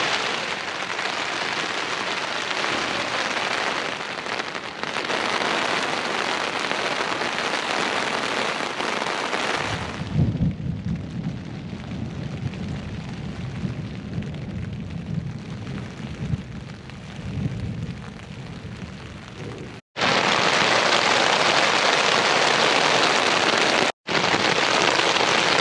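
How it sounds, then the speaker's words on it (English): Steady rain falls in the English countryside, a dense continuous hiss of drops with one stretch where heavier drumming on a nearby surface adds a low patter, broken by two abrupt cuts. "So it's raining."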